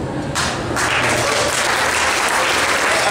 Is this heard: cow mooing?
no